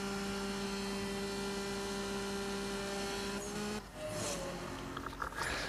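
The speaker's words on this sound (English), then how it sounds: "So I downshifted there, and I thought maybe I downshifted too late, so I upshifted again" A car engine in the CSR2 racing game hums as a steady, quiet drone, then abruptly shifts down, its pitch changing with a brief dip before settling into a new tone near the end.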